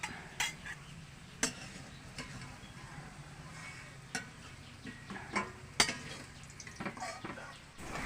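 Fried potatoes being lifted from hot mustard oil in a pan, with a soft ongoing sizzle under scattered utensil clinks and scrapes against the pan, close and fairly quiet.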